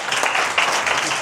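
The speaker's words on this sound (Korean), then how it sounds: "큰 박수 환영할까요? 우리?" Brief burst of audience applause welcoming Pastor Jeong Tae-su, head of the Anyang hospice mission, at a hospice volunteer training session; a steady wash of clapping from a room of people, lasting only about a second.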